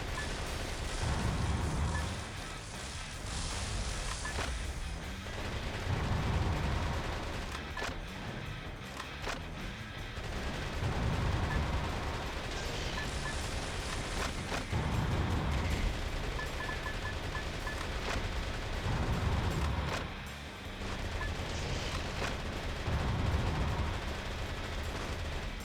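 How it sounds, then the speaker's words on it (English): In the video game Metal Wolf Chaos, missile launches and explosions pound away in repeated bursts, rapid rattling fire mixed with heavy booms, recurring every few seconds at loud, steady intensity. "every missile I'm firing is kind of missing"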